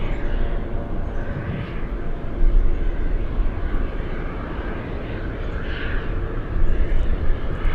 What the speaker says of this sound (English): Let's rate the landing.